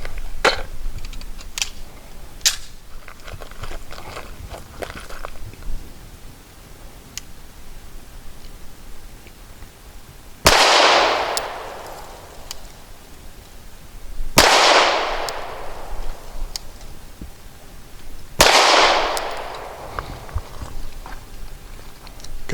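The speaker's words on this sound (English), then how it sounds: "Tia will be doing the shots, and first up is that Blazer aluminum 115 grain." Three loud gunshots from a Walther P99AS pistol firing Blazer aluminum 115 grain ammunition, spaced about four seconds apart outdoors, each with a sharp crack and decaying echo, after some quiet handling clicks and no talking.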